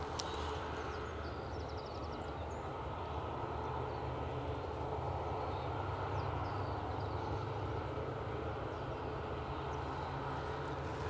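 An Embraer ERJ jet at Edinburgh Airport gives off a steady, broadband engine roar that holds loud and constant throughout, with no voices.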